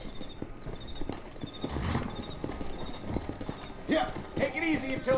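Horse hooves clip-clop at a steady trot in the Red Dead Redemption video game, close and fairly loud, with an occasional whinny and voices talking over the rhythmic hoofbeats.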